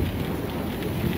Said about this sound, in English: A little rain and some thunder